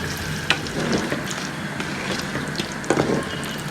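Coconut oil heats and fries in a pan, a continuous close sizzle and crackle with a couple of sharper pops and light scraping clicks; no talking.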